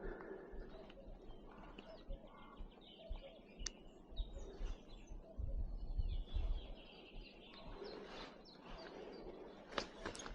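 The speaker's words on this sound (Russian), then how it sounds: "Тишина, птички поют." Faint birds chirp and tweet intermittently in a quiet rural spot in the Crimean countryside, scattered calls over soft background rustle and a few clicks.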